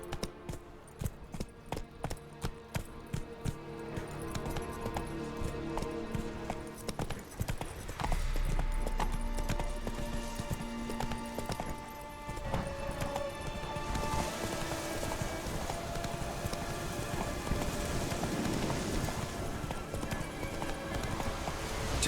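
Horse hooves clip-clop at a steady rhythm in The Witcher 3, breaking into a faster gallop with rushing ambience; a rider briefly urges the horse on.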